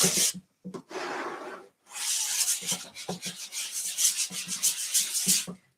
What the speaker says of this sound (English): Should I be sanding this too?